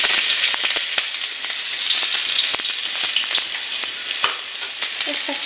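Sliced onions crackle and sizzle as they hit hot oil in a pan, a bright, dense frying hiss with scattered pops and a few stirring knocks, near and steady.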